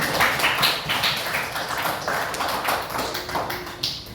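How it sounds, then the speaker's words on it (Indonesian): A classroom of students applauds their classmates during a physical education lesson, a quick burst of close, bright clapping with many hands tapping at once for a few seconds. "kita berikan tepuk dulu untuk teman-teman kita"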